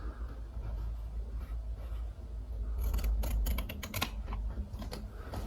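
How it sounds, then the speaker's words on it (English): Blade trimming excess wallpaper around the edge of a plug socket, a run of quick close cutting and scraping clicks that grows busier toward the end over a steady low hum. "So you just need to trim away the excess."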